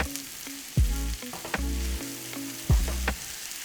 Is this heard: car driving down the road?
no